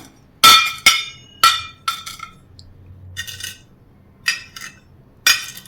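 Vermicelli is pressed into a tray for a milk powder pudding, producing a series of sharp metallic clinks and knocks at irregular intervals, close and fairly loud.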